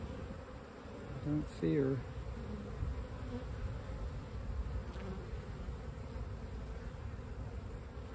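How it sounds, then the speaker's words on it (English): Honeybees buzzing around an opened Layens hive, a continuous close drone with brief louder passes of individual bees, while a person speaks quietly now and then. "See a couple bees with pollen in their pollen baskets."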